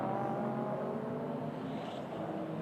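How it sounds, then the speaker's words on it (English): Race car engine at the Fuji Super TEC 24-hour endurance race, a steady loud roar as the car threads through traffic toward turn 1, with a sustained drone and no pauses. "Here's Giuliano Alesi coming through traffic, approaching turn 1."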